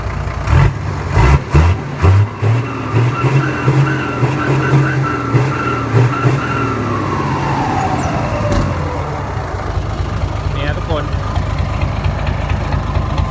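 A Mitsubishi Fuso truck engine fitted with a 25-inch noodle-pot style exhaust idles loudly and close, then revs in bursts, with a deep rumble that rises and falls. Someone talks over it at the start.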